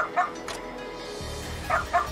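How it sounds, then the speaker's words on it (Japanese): A dog in the video game Ryu ga Gotoku Ishin Kiwami barks in short, sharp pairs, two quick barks at the start and two more near the end, fairly loud over a low game background. "ずっと吠えてんな"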